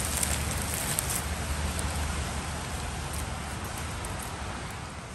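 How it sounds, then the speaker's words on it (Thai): Wind rushes through a forest as a continuous broadband hiss, even and unbroken, with no voices over it. "เสียงลมทุกคน"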